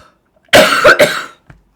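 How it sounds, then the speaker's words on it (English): A person gives one close, loud cough with two or three harsh bursts, followed by a faint throat sound. "Excuse me, I've got a cough again."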